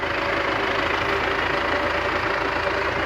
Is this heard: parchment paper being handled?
no